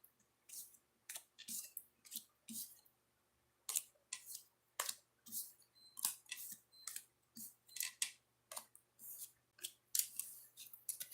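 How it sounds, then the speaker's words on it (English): Oracle card decks shuffled by hand in short bursts of crisp riffling and flicking, repeated a dozen or so times with brief pauses between, close and fairly quiet with no talking. "I am going to set up the decks by shuffling them and everything"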